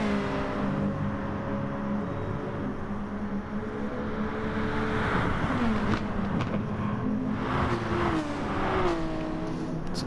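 A race car engine screams at high revs, its pitch climbing and dropping through gear shifts, with other cars whining nearby, loud and continuous from the cockpit.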